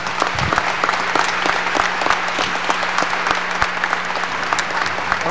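Steady, dense applause from a large audience fills the room throughout a ceremony honoring 70 years of Brazil's labor law consolidation, the CLT.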